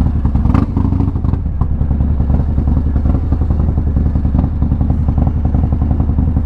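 A Harley-Davidson Low Rider S engine thrums steadily and loudly while riding, a dense low rumble with rapid mechanical pulsing and wind noise, close and continuous throughout.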